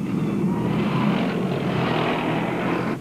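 An Apache attack helicopter in flight over desert during the 1991 Gulf War, a steady droning engine and rotor roar, fairly loud and continuous for a few seconds, with no voices.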